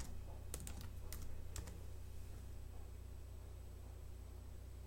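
Fast keystrokes on a Mac keyboard as an administrator password is entered, a short cluster of crisp clicks near the start, then quiet room hum with faint steady tone.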